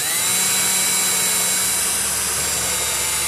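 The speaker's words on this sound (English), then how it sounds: "Now I'm going to drill 2 holes on either side of this" A power drill bores holes into the side of a wooden self-watering planter, giving a steady, continuous high whine with a low motor hum underneath for a few seconds, close up and alone.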